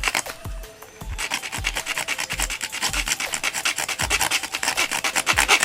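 A blade saws through UPS plastic pipe to cut it into short pieces. The strokes are loud and close, rasping back and forth in a steady, fast rhythm after a few slower starting strokes.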